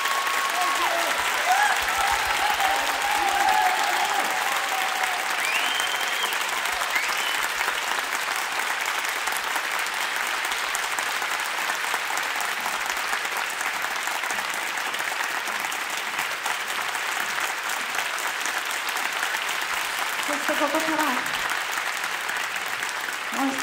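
Audience at a gospel concert in Tokyo gives sustained, steady applause, a dense wash of clapping from a crowd that carries on throughout, with faint voices and stray tones underneath.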